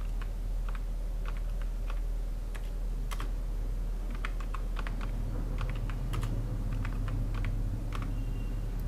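Keys clatter on a computer keyboard as a name is typed during a CorelDRAW pencil design, with irregular clusters of sharp clicks close by over a steady low hum and no talk.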